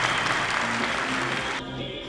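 A large audience at a stage performance in a hall breaks into fervent applause: a dense, loud, continuous roar of clapping that eases slightly toward the end.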